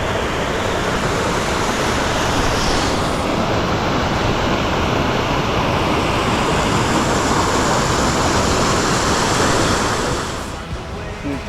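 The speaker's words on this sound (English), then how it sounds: "So peaceful hearing the constant river running through as we walk past." A river runs steadily alongside a walking trail on a rainy hike, its dense rushing roar loud and unbroken until it eases slightly near the end.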